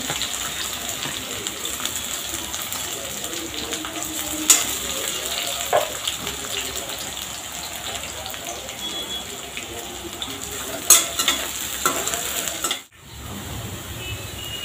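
Sliced onion and whole garam masala sizzle in hot oil, a steady close frying hiss with faint clinks and stirring scrapes and a brief dip near the end.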